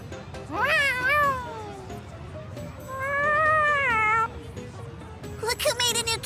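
A cat in Tales of Xillia 2 gives several rising-and-falling meows, two long clear ones followed by a shorter burst at the end, close and loud over low background game noise.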